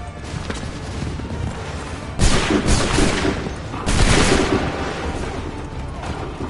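Musket volleys in Assassin's Creed III: two loud, broad bursts of gunfire a couple of seconds apart rise over a steady battlefield din, with shouted voices underneath.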